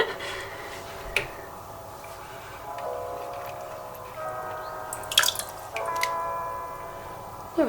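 Water dripping in sporadic drops, a few sharp splashy plinks standing out over a quiet hiss.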